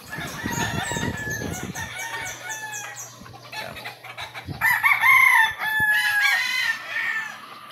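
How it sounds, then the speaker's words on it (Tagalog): Several roosters crow in overlapping calls alongside clucking hens on a chicken farm, fairly close, with a low steady hum underneath and no talking. "Ayan yung mga manok nila."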